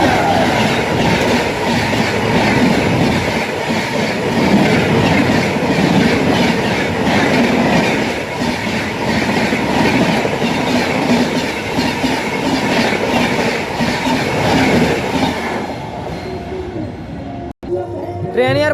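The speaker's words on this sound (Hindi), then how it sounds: "ट्रेन आने वाली है, पहले ट्रेन देखो फिर बाद में बातें हुई हैं।" A train rushing past a railway level crossing, loud and close, with a steady heavy rumble and rhythmic wheel clatter that holds for many seconds before thinning out at the end.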